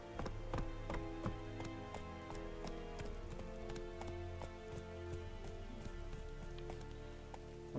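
Horse hooves clip-clop steadily in The Witcher 3 video game, a regular trotting rhythm of sharp knocks at moderate level over a constant backdrop of game music and ambience.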